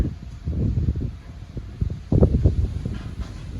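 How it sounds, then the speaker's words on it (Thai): Strong evening wind blowing outdoors ahead of a thunderstorm, buffeting the microphone with low, uneven rumbling gusts that swell louder toward the middle and then ease, no voices. "ลมก็แรงนะคะ"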